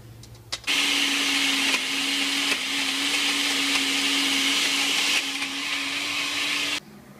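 A blender whirs loudly and steadily for several seconds, blending berries, honey, yogurt, ice and milk into a smoothie, with slight dips in pitch as the load shifts before it cuts off abruptly.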